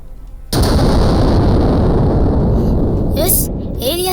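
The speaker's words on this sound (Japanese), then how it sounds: "砲撃は成功しました" A modernized Yamato battleship's main guns fire a sudden heavy blast that rolls into a long, loud rumbling roar, then fades as a voice speaks.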